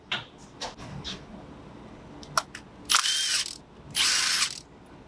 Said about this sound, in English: I'm taking these off with a power tool